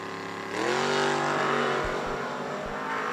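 A Mustang and a Monza launch off the line in a drag race at World Wide Technology Raceway, engines swelling into a loud, sustained roar that holds steady at close range.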